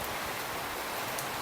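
Steady rain of a first monsoon shower falls with a constant, even hiss across the whole stretch, close and moderately loud, with no voices.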